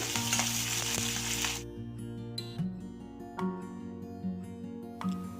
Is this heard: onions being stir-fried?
yes